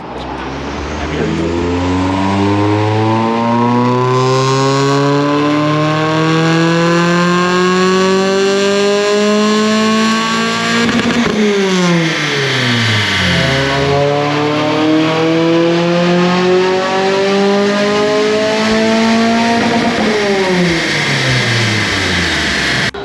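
A Renault Clio Sport Cup edition revs hard on a dyno at a cars and coffee meet, loud rising engine sweeps climbing through the gears, dropping off and building again three times.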